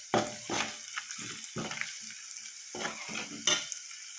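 Half a kilo of mutton with onions frying in oil, stirred with a few uneven scraping strokes in a pot over a soft sizzle, close and fairly quiet, with no voices.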